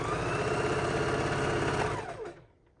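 Sewing machine quilting through a bulky man-cave couch quilt, a fast steady mechanical stitching whir close by that runs evenly and then winds down and stops near the end.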